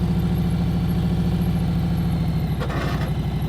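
Motorcycle engine idling with a steady low, pulsing throb while the clutch is held in the friction zone, close and continuous, with a brief rise in tone near the end.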